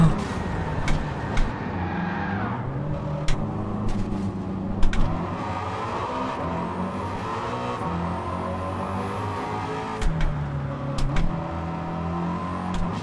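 A race car engine in Gran Turismo 7 drones steadily, its pitch rising and falling as the car accelerates and brakes, with a few sharp clicks and bumps scattered through.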